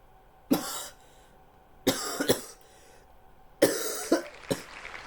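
Three separate bursts of coughing, each a sharp cough followed by one or two more, spaced a couple of seconds apart with quiet between.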